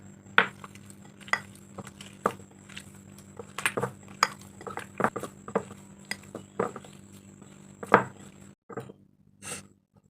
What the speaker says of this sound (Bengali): দেখুন, অল্প অল্প করে জল দিয়ে নিয়ে গুলে নিচ্ছি